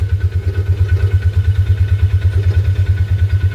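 A skid loader's engine chugs close by in a steady, pulsing rhythm while winching with skidder chains during a creek culvert installation, loud and low with a faint clatter over it and no talking.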